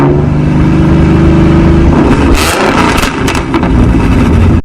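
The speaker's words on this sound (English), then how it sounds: "this tune will give your GT a much more aggressive sounding idle, and even when it starts revving, it sounds really good" A tuned Ford Mustang V6 roars loud and close, its deep idle swelling into a hard rev with a throaty rise and fall, then climbing again, with no voices.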